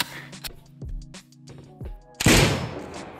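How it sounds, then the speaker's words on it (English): AK rifle fire in Rust Console Edition: several sharp close single shots spaced over two seconds, followed by a louder burst with a lingering rumbling tail. "You bait them over, you shoot the AK a little bit"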